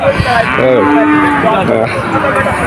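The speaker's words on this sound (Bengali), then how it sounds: "এখানে বিভিন্ন রকমের গরু এখানে দেখা যাচ্ছে, দারুণ দারুণ গরু।" Several cattle moo loudly and repeatedly, long drawn-out calls overlapping amid a busy, crowded background at a cattle market in Jessore, Bangladesh.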